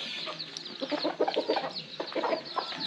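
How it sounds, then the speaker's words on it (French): Roosters and hens at Muang Ngoi, Laos cluck and squawk in a busy flock, with overlapping choppy calls and a brief crowing note, moderately near with no speech. "derrière toi, ce sont des coqs et des poules"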